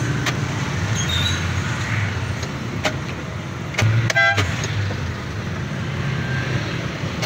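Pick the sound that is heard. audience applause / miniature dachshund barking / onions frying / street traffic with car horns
street traffic with car horns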